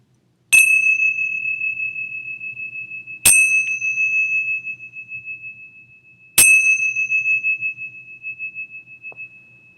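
A meditation bell is struck three times at the close of a session, each ring a clear, sustained tone that slowly decays, heard alone in near silence.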